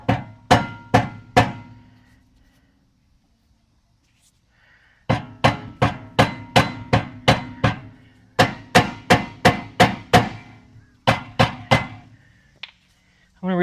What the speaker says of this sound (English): Rubber mallet.